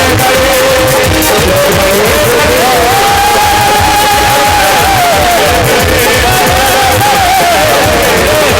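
Devotional crowd at a Ganesh jagran in Jaithra cheering and clapping in a steady rhythm, loud and dense throughout, with music and raised voices mixed into the din.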